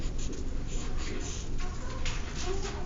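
Pencil scratching quickly across paper in a steady, continuous run of short strokes while sketching, close and moderately loud with no voices.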